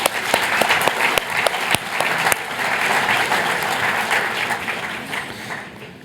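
A conference audience at a real estate event breaks into loud applause, with dense clapping and a few sharp claps standing out at first, then a sustained roar that slowly tapers off toward the end.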